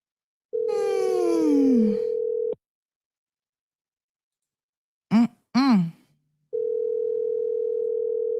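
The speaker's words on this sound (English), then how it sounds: "Answer the phone, Michelle." A telephone call goes unanswered: a steady dial-type tone sounds, then silence, two short electronic chirps, and the steady tone resumes, loud and close, with no talking.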